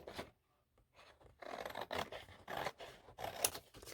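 Scissors cut a 12 by 12 inch sheet of paper down to 9.5 inches during a papercraft project, giving close, rasping snips in uneven bursts with short pauses between them.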